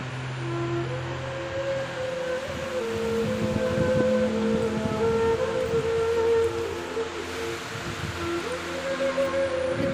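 Floodwater rushes through a flooded roadside area after several days of continuous rain, a steady loud broadband roar that continues throughout, with faint tonal hums underneath.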